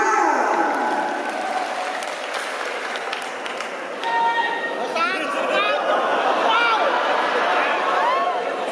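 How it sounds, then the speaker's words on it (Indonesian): Audience applause at a friendly gathering, loud and steady clapping from a crowd, mixed with cheering, chatter and a few high whistles throughout. "Kasih dulu tepuk tangan untuk Maestro Dilan."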